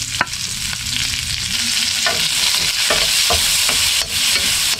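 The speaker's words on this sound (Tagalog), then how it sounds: "Yan, dito na rin tayo magigisa" Garlic, onion and ginger sauté in a hot pan with a loud, steady sizzle, broken by several sharp scrapes and clicks of stirring.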